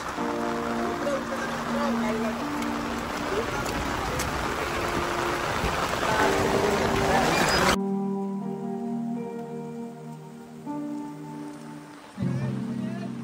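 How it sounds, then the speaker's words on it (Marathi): Steady heavy rain roars throughout, with voices talking over it; the downpour cuts off abruptly partway and softer sounds continue. "बघू शकता फुल पाऊस आहे, फुल पाऊस."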